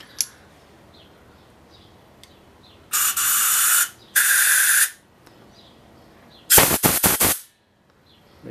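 Compressed air blasts through a corroded Briggs and Stratton Classic auto-choke carburetor in three loud hissing bursts: two steady blasts about a second each, then a sputtering, choppy one, all with quiet gaps between.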